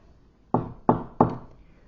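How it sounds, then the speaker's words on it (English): Three firm knocks on a wooden door, evenly spaced and close, each a sharp thud with a short decay, sounding alone against a quiet background. "He knocked on a door."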